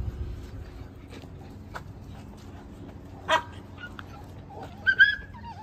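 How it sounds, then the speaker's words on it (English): Several dogs from a pack at play after a trip to the park, with a couple of short yips and whimpers rising over a low, steady background rumble, fairly quiet and scattered, no talking. "Out here fucking with the dogs though"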